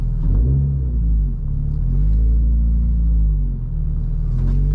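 A 2024 Subaru BRZ Limited engine idling up on its own, a low steady rumble with a slight rise and fall, close and loud with no talk over it.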